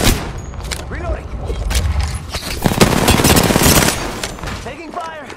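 Bursts of gunfire in the battle-royale shooter Apex Legends, loud and close, with rapid volleys and impacts layered over game effects and a chattering mechanical rattle, and voices speaking at moments.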